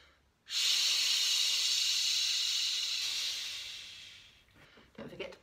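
A loud sustained "shh" breath exhaled as a singing warm-up exercise, a voice imitating a hissing sound, held for about four seconds and then fading, followed by faint rustling and a short breathy sound.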